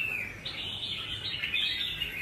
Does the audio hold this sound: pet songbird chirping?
yes